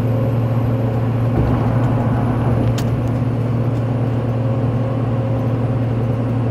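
Ford F250 pickup on Carli 4-inch coilovers climbing a hill under load, a steady loud low engine drone with road rumble, no talking.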